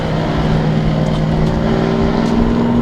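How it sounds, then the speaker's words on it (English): A loud truck passes close by on a street, its engine a steady roaring drone with a humming tone that stays strong throughout. "We have loud trucks."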